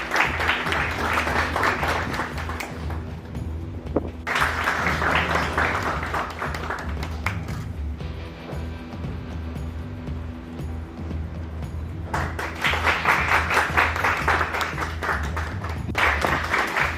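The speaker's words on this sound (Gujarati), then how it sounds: "આપણે બધા તાળીઓથી આ સન્માનને જોડીશું" Audience applause at a certificate distribution ceremony for jewellery design students, heard as bursts of clapping that come and go in several waves over a steady crowd murmur.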